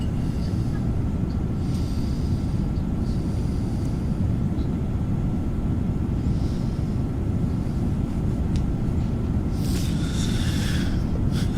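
A Pilatus aircraft in flight, heard from inside as a steady, loud, continuous drone during descent, with no talking and only brief faint higher sounds near the end.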